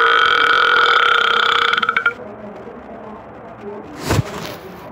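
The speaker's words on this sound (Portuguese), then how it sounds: "Ele arrota, mano." A dog character in a mobile video game lets out a loud cartoonish burp, a strong tonal blast for about two seconds that breaks off into quieter game background, followed by a short sharp sound near the end.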